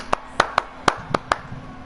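Six sharp hand claps, close and crisp, fall in an uneven rhythm with short pauses between them, with no talking alongside.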